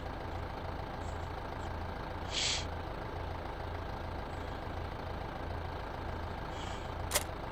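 Tractor trailer engine in the video game Farming Simulator 15, idling at a low, steady hum with brief hissing bursts like an air brake release partway through and a short sharp click near the end.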